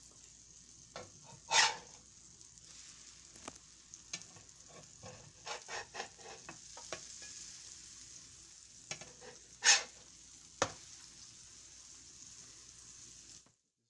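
Pancake batter cooking in a frying pan, a faint steady sizzle running throughout with scattered light clicks and taps of a utensil and a few sharper knocks.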